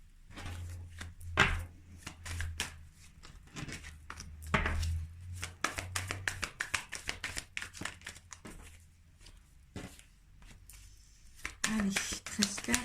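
Tarot cards shuffled and dealt for a June reading, producing rapid crisp riffles and flicks in bursts with soft taps as cards are laid down, close by, while a voice talks quietly at times.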